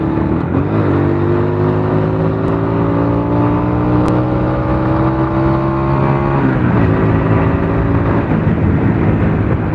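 A Honda Grand motorcycle engine screams at full throttle on a top-speed run, a loud sustained high-revving whine that climbs steadily in pitch, dips briefly as the rider shifts, then pulls up again amid heavy wind roar.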